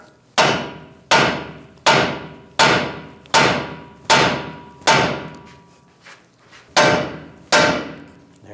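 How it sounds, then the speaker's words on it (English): Hammer striking the steering knuckle of a 2011-2018 Ram 1500 to break the ball joint loose, about ten sharp metallic blows at a steady pace, each with a short ringing decay and a brief pause partway through. "just take a hammer, give it a tap"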